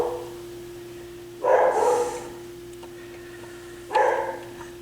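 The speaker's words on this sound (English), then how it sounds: "there's Ralph barking." A cattle dog barks twice at a distance, two short separate barks over a steady electrical hum in an otherwise quiet room.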